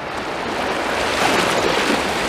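Sea waves wash steadily along the Blackpool promenade on a sunny day, a continuous broadband surf noise with light wind, fairly close and even in level, no voices.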